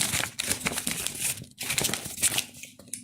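Hands unwrap a crumpled piece of paper, producing close, loud crinkling and rustling in irregular bursts with brief pauses between handling.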